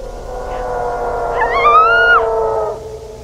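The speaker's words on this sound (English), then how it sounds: "Suddenly there's a loud roar that caused her to scream and run away" A monster roars in the analog horror series Winter of 83: one loud, drawn-out, wailing howl that rises in pitch and then falls away over a low background hum, with no voices.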